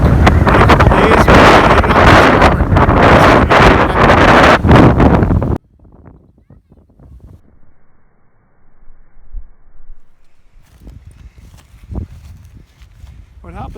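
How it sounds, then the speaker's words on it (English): Loud, roaring wind buffets the microphone for several seconds beside the Qu'Appelle River, then cuts to a quiet outdoor scene with faint rustling and soft movement. "it's getting pretty windy, as you can see"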